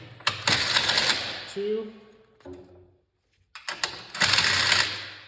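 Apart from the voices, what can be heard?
5/16 socket ratchet removing bolts from Cub Cadet snowblower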